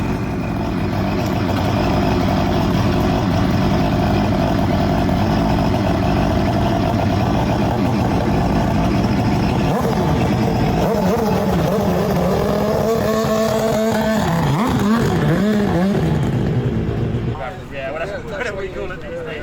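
A Crighton CR7000W motorcycle with a 690cc, 220hp four-stroke rotary engine, idling with a buzzy, harmonic drone before revving up and down in rising and falling sweeps, then settling back near the end.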